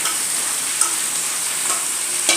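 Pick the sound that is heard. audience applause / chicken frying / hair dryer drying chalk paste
chicken frying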